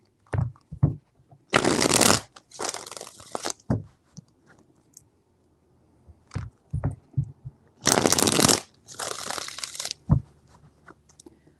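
A deck of tarot cards is shuffled in two loud riffling bursts. Softer taps, pats and shuffles of the cards between them are near and clear.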